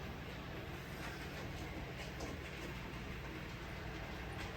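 A model railway locomotive named Churchill runs smoothly along the track, giving a steady, continuous rolling rumble and hum close by with no breaks or talking.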